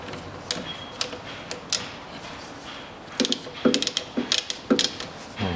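Socket ratchet turning a front stabilizer bushing bolt by hand on a Hyundai Accent 1.5; close, crisp clicking of the pawl in short uneven runs, growing louder and quicker toward the end.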